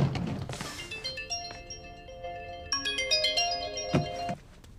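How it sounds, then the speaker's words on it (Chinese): A phone ringtone for an incoming call plays as a bright melodic tune of repeated tones, fairly close and loud, with a few short knocks and rustles mixed in and no talking. "估计是老 K 家里人来电话了。"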